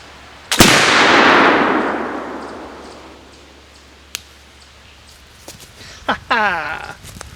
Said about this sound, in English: probably going to be my last shot of the day